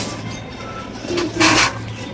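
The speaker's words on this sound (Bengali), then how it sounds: "খুব সুন্দর একটা কবুতর" A pigeon gives a short, soft coo, close by, over a low steady indoor hum, with a brief rustle just before it.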